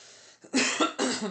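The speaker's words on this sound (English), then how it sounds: "Cough, splutter, cough, splutter, cough." Three close, harsh coughs in quick succession, loud and near, after a moment of quiet.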